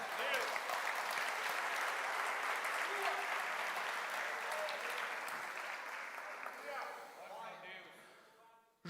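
A church congregation applauds during a sermon, a broad continuous wash of clapping from many hands that holds steady and then gradually thins and fades out, with some voices faintly mixed in.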